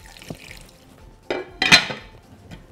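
Water splashes into a pot over bone broth ingredients, including leek. It comes as a few close, brief splashes and clinks with quiet gaps between.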